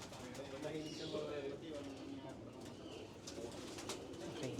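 Pigeons in a pigeon loft coo in soft, low, repeated murmurs from several birds, with voices speaking faintly underneath.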